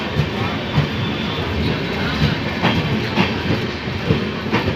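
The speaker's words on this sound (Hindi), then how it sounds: "ये ट्रेन अब बख्तियारपुर रुकेगी।" Passenger train running after departing Khusrupur station in Bihar at night, a loud continuous rumble with rhythmic clickety-clack of wheels over rail joints, heard close from inside the carriage.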